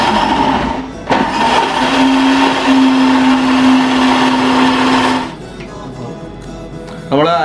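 A mixer grinder whirs loudly as it grinds onion masala with a little water. The motor runs at a steady high whine for about four seconds, then cuts out, leaving a brief clatter and a short burst at the end.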